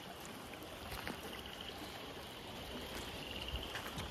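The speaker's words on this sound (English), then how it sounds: "Got a little water flowing." Water flows through a culvert in a beaver-dammed slough, a steady, close trickling rush that continues evenly, with no voices.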